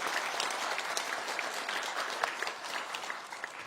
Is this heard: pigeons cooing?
no